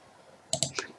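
A few quick keystrokes on a computer keyboard during spreadsheet data entry in an office, three or four crisp, close clicks after a quiet pause.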